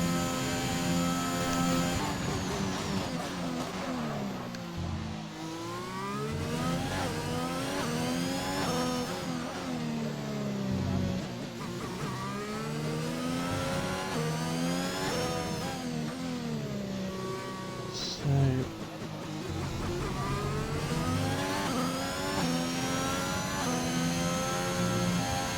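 A race car engine in a sim racing league game revs and climbs through the gears on a lap, with rising and falling whines and brief dips at each shift, loud and continuous.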